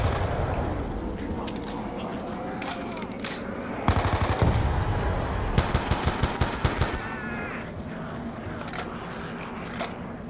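MP5 submachine gun in Black Ops 2 Zombies on the Town map, rapid bursts of gunfire over a busy game background, with a clear run of sharp evenly spaced shots in the middle.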